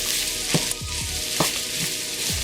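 Onions fry with a steady sizzle in a pan while a utensil stirs them, giving a few soft scraping strokes through the close, continuous hiss.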